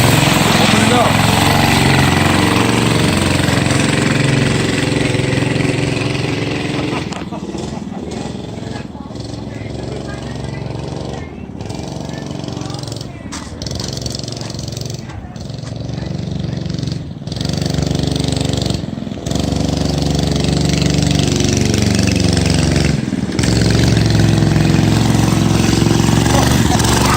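A Mega Moto MM B105 mini bike's small engine runs loud and close, idling and revving in uneven surges with a few brief cutouts in the middle before it picks back up to a steady roar.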